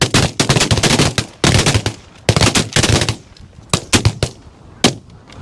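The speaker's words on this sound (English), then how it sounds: "Good shooting, boys." Shotguns fire at birds during a muddy hunt: a loud, close volley of overlapping blasts in quick irregular clusters, then a few scattered final shots.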